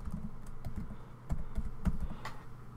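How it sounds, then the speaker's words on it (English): Quick, irregular clicks of keys being typed on a computer keyboard, close and fairly quiet, with a steady light tapping rhythm and a sharper final keystroke, and no voices. "type in Tampermonkey"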